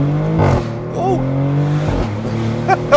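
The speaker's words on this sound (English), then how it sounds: "Downshift not as aggressive as I would like it to be. Them upshifts though." A Maserati GranCabrio Trofeo engine revs hard and loud, rising then dropping sharply through a couple of quick gear shifts.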